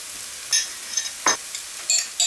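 Shrimp frying in a pan as ají amarillo paste is stirred in: a steady soft sizzle broken by several short scraping stirs of a utensil, close up.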